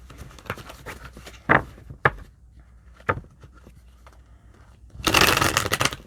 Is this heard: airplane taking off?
no